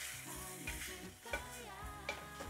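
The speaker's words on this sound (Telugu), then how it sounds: "ఇప్పుడు ఇందులో ముందుగానే తయారు చేసుకున్న రైస్ని చల్లగా చేసుకొని ఇందులో వేసేయండి, బాగా మిక్స్ చేసేయండి" Cooled rice is mixed with fried paneer and fenugreek leaves in a pan, with faint, continuous stirring and soft sizzle under tonal background sound.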